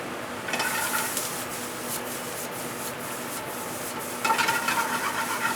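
Baby spinach and pan-roasted wild mushrooms sautéing in a pan, a soft continuous sizzle with scraping and stirring bursts near the start and end.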